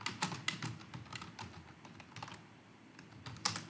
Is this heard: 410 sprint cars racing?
no